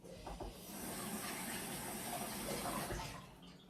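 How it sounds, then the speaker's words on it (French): Hands are washed under a running kitchen tap between steps of preparing sweet and savory appetizer bites; the water makes a soft, steady hiss and splash that swells and fades slightly, quiet and close, with no talking. "Passage obligatoire au lavage des mains."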